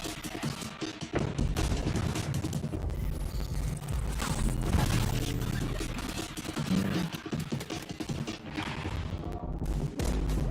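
Dense, continuous gunfire and fusillades ring out during a Counter-Strike match at the CCT Global Finals 2024, with overlapping shots and booms and little talk.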